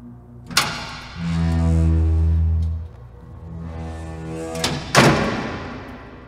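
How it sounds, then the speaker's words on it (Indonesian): A waste-area door in a factory slams hard, two heavy thuds a few seconds apart with a low droning hum swelling between them, close and resonant. "terdengar suara pintu area limbah terbanting dengan keras."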